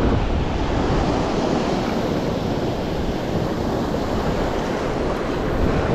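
Ocean surf washes steadily onto the shore where sea bass fishing is under way, a loud continuous roar of breaking waves mixed with heavy wind buffeting the microphone.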